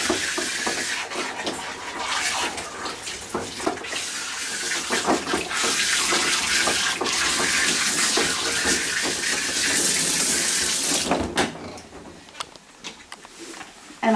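Water runs steadily from a tap or shower while an American Cocker Spaniel's coat is rinsed during grooming, a continuous hiss with splashing that fades near the end, no talking.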